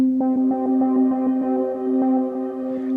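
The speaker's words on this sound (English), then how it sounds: "you can hear how the shimmer verb reacts to these frequencies that are being fed into it" Roland SH-4d synth drone fed through a shimmer reverb: a steady low fundamental with stacked harmonic tones, soft rhythmic pulses and a faint airy shimmer rising near the end, with no voices.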